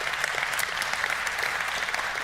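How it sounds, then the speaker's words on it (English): A church congregation applauds, giving a steady wash of many hands clapping at moderate volume for a couple of seconds, with no voice over it. "you should give them an applause"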